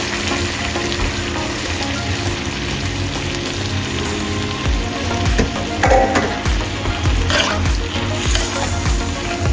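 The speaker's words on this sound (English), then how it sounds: "now I'm going to go ahead and add in some coconut milk" Coconut milk poured into a hot pan for a Jamaican-style curry chicken rasta pasta sizzles and fries steadily, with some stirring scrapes throughout.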